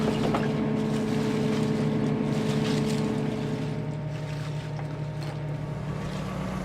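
A 22-year-old oyster boat's engine runs steadily, a low continuous drone with a constant hum and some wind noise over the microphone, with no voices.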